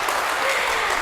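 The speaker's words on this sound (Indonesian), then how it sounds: "Boleh tepuk tangan sekali lagi Ibu-Ibu." Audience applause in a talk show hall, a dense steady burst of clapping from a limited seated crowd, close and loud throughout the short moment.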